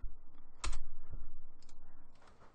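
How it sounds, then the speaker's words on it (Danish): Computer keyboard keys tapped during spreadsheet work, a few soft close clicks, one sharper press standing out, with faint scattered clatter afterward. "og så trykker jeg på Enter"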